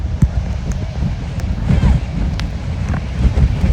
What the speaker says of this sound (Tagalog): be careful ah. Malakas hangin